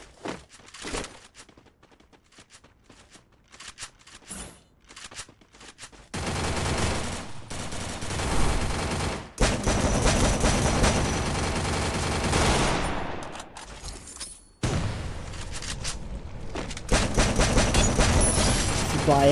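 Bursts of rapid automatic gunfire crackle through a video game shootout, with dense volleys starting around the midpoint and continuing almost without pause, interrupted briefly by a short gap before more sustained firing.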